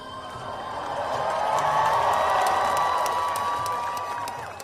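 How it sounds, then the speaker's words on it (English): Hundreds of protesters in Washington, DC, led by a singer, sing a song together, a broad mass of voices holding sustained notes that swell louder mid-clip and then ease off. "you can hear hundreds and hundreds of people singing along with him"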